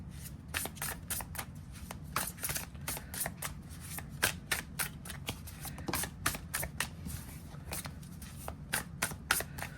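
Tarot cards are shuffled repeatedly, a fast riffle of crisp flicks and taps, close up and fairly quiet, continuing in bursts without pause.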